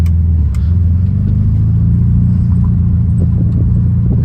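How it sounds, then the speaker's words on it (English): A 1972 Volkswagen Beetle's aftermarket exhaust drones low and steady from inside the cabin, a deep throaty rumble that holds constant with slight rises in engine pitch. "as soon as we roll these windows down, you can hear this exhaust a whole bunch"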